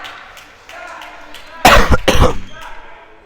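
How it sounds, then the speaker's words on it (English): A couple of sharp, loud coughs burst out close by at a basketball game, with quiet talk and faint room noise before them. "Excuse my cough."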